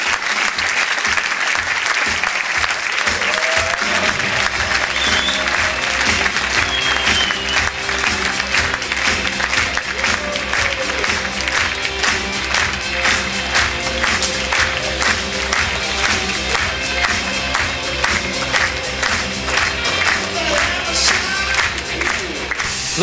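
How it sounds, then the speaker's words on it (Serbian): A large audience at a CaliVita International 15-year anniversary event in Serbia applauds the company's president and founder, a dense, sustained wash of clapping that holds steady from start to finish, with a few faint voices mixed in. "Želim da zamolim za veliki aplauz za predsednika i osnivača Kalivite International, gospodina Gerija Hargitaja."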